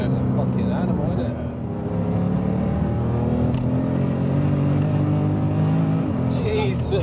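A 1000hp BMW M3 accelerates hard, its engine droning loud and steady close by as the revs climb, with people talking over the noise throughout.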